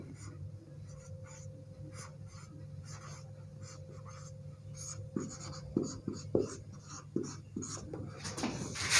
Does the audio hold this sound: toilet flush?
no